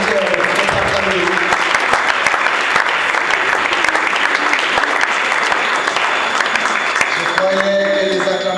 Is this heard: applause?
yes